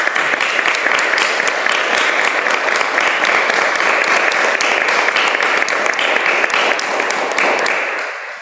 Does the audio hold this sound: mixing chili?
no